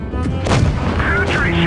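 A tank cannon firing in a video game, a single heavy boom with a long rumbling tail that fills the short stretch, loud and close.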